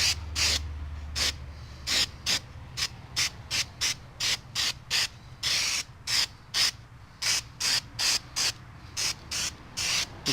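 Weld-through primer is sprayed from a can onto the inner rocker and a rocker patch panel of a 1971 SS car, in a rapid series of short, loud hissing bursts with brief pauses between them.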